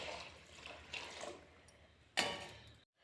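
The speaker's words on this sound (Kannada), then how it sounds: "ನಮಗೆ ಎಷ್ಟು ಬೇಕೋ ಅಷ್ಟು ನೀರು ಹಾಕಿ" Water is poured into a pot of brinjal khichdi in two short close splashes, the second louder and more abrupt, ending in quiet.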